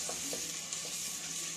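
Garlic and sliced onion sauté in a pan for a broccoli pasta dinner, giving a close, continuous bright sizzle with a few soft stirring scrapes.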